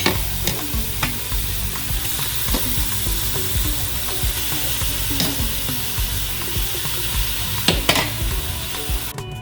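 Meat sautéing with onions and cilantro in a pan gives a loud continuous sizzle, broken by repeated scrapes and clacks of a utensil stirring close by.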